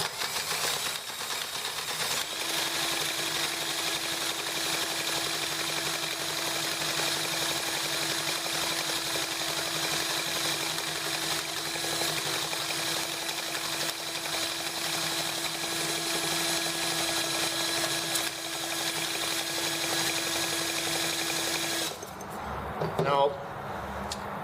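A T26 engine being started and running rough: a loud, steady rattling mechanical drone with a clattering edge continues for about twenty seconds, then cuts off abruptly near the end.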